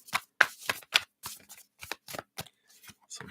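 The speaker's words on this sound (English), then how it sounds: "Give these a shuffle." A deck of tarot cards being shuffled: a string of crisp, papery riffles and snaps in irregular bursts, close and clear against near silence.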